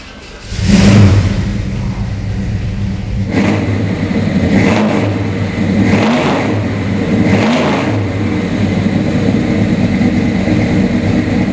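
A 1969 Buick GS400 Stage 1 V8 cranks and fires up, then revs loudly several times in a row with rising and falling blips over a steady rumbling idle, close by with no talking.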